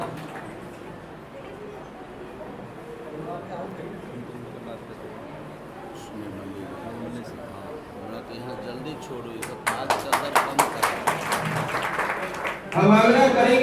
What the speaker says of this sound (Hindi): आप आग्रह करेंगे कि जोरदार ताली बजाकर कार्यपालक